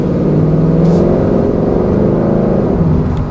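A 460hp Ford Mustang GT accelerating through Houston traffic, its engine giving a loud, steady close-up drone with a rumbling low end that holds for a few seconds, without speech.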